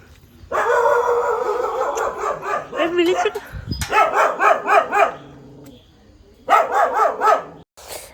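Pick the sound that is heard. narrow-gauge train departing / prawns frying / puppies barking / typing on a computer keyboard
puppies barking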